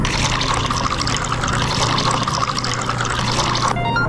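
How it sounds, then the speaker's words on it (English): Grape juice pours into a cup in a VR cooking video game, a continuous close trickling splash lasting several seconds before cutting off. "Pour it out into a cup and then we can serve it."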